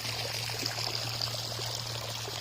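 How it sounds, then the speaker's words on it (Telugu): A soft, continuous rush of irrigation water flowing and trickling into a rice field nearby, steady and unbroken with a low hum beneath. "అన్నీ ఇట్లా పోతాయి నీళ్ళు ఇక ఇంకా పారుకుంటా పారుకుంటా పారుకుంటా పోతాయి మంచిగా"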